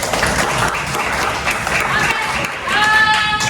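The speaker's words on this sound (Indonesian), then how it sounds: "Oke, tepuk tangan dulu dong." A classroom of children claps together in dense, continuous applause at close range, with a few high voices calling out as it swells near the end.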